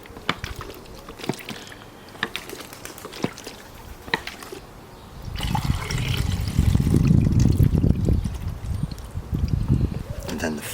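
Processing liquid sloshing inside a film developing tank as it is turned upside down repeatedly, a faint rustle at first, then a louder rhythmic watery churning through the second half.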